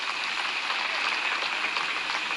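Crowd at a political rally in Ramban clapping steadily, a dense, even wash of applause heard from a distance and held at a constant level throughout, with no talk over it.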